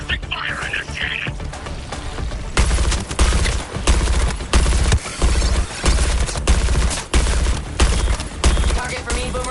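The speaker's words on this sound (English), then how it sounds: "Suppressing fire initiated." Loud gunfire rings out in the Suicide Squad video game as suppressing fire, coming in repeated heavy bursts separated by short gaps.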